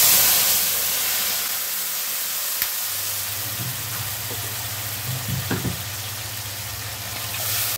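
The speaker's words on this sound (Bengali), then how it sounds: "আদা বাটা, লঙ্কা বাটা, হলুদ, জল দিয়ে একটু গুলে নেব। মশলাটা দিয়ে দিচ্ছি" A spice paste of ginger, chili and turmeric mixed with water sizzles loudly in hot oil, a steady bright hiss with occasional pops and stirring scrapes, no talk.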